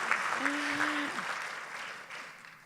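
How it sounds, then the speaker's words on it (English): A forum audience at a Progressive Democrats of America governor's event claps for a volunteer, a moderate wash of applause that slowly tapers off, with a brief voice heard over it early on. "So clap for her."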